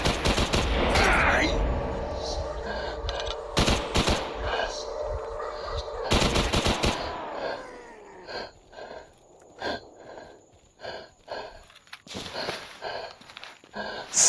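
Gunfire in the video game Escape From Pripyat: a rapid automatic burst at the start, then scattered loud single shots and short bursts amid footsteps and rustling, fading toward quieter intermittent shots.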